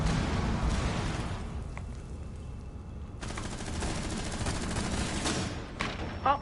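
Rapid gunfire and a flashbang blast in the video game Rainbow Six Siege, a dense, loud barrage of shots and bursts filling nearly the whole stretch with no speech over it.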